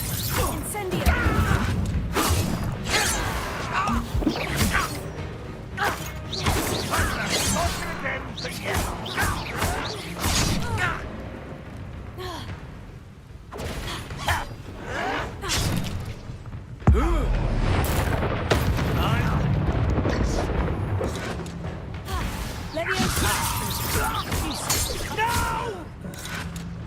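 A Hogwarts Legacy battle with the Incendio fire spell brings a dense run of bursts, whooshes, booms and crashes at varying loudness, scattered with short pauses and character voices.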